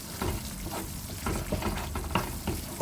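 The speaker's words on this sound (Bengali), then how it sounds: "এবার ধীরে ধীরে মশলাটা কষিয়ে নিয়ে" Spice paste for soya kofta curry sizzles in a pan while being stirred, a close, continuous frying hiss marked by repeated spatula scrapes and soft crackles, no talking.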